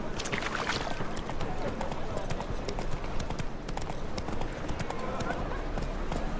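Roach, the horse in The Witcher 3, trots with a steady, close clip-clop of hooves that runs the whole way through under dense ambient noise, and a voice speaks over it.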